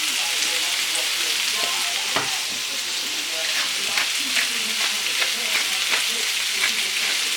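Food sizzling and crackling in a frying pan with herbs and garlic, a steady loud hiss broken by scattered pops and stirring sounds, with no talking.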